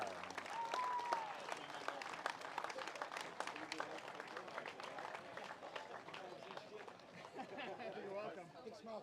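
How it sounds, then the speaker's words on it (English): A crowd applauds the winner at a 4WD world championship awards moment, with faint, steady clapping mixed with chatter and voices throughout. "One more round of applause, everyone."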